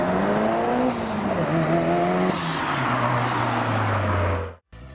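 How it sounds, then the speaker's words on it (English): A turbocharged car lets off the gas, its engine tone falling in steps as excess intake pressure vents, then a brief sharp cutoff near the end; loud and close, no talk. "Another turbo sound is the blow-off or wastegate noise."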